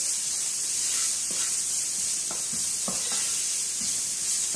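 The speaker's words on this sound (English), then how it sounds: "Then we're going to add our onions. Give that a little stir so it gets coated in all these lovely curry flavors." Onions stirred into sizzling curry in a pan for Jamaican curry chicken, a steady hissing sizzle throughout with faint spoon scrapes and taps dotted through it.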